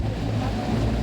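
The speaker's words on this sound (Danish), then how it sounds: "that's only the engine back of the ship" Steady low drone of a ship's engine running at the stern of the vessel MS Goliath, a continuous close rumble with wash of water and wind over it, no voices.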